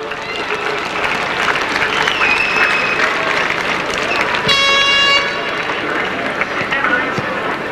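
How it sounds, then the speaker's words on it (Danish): A crowd applauding at a Vejle Boldklub football match: dense, loud clapping sustained throughout, with voices mixed in and a brief horn-like tone partway through. "Og det er selvfølgelig tilladt at klappe."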